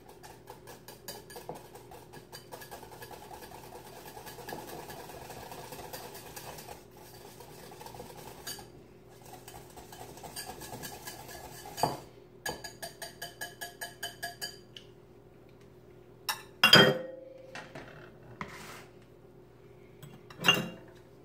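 A spoon works through Waldorf chicken salad in a bowl, producing soft rhythmic scraping and stirring with light clinks against the dish and a couple of louder knocks near the end, close and fairly quiet.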